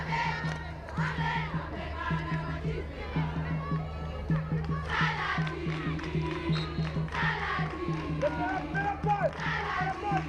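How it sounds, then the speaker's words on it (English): Spectators at an Arundel schools field hockey match for the Brooker Cup chant and shout in a steady rhythmic swell, the crowd noise building in waves beneath close commentary voices. "it sounds like the Arundel crowd is slowly getting louder as the game goes on"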